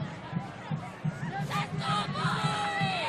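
Football crowd at a state high school championship game cheering, with Union City cheerleaders and band in the stands; a broad, steady roar of many voices with scattered shouts, continuous and fairly distant throughout.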